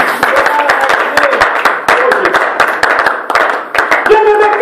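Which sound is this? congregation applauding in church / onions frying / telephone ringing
congregation applauding in church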